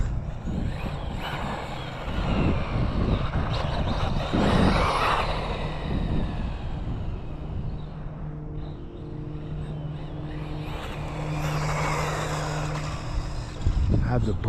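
An HPI RS4 Pro 4 electric RC car driven on a speed test, its motor whining and rising as it passes near then fades, then swelling again toward the end, under outdoor ambience with a voice heard.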